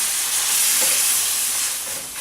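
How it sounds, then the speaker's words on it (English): Chicken stock poured into a hot pan to deglaze it gives a steady, loud sizzle and hiss of steam that holds the whole time, with no voices. "you can pour a little bit in first and just use it to deglaze your pan to get all those scrapings off the bottom"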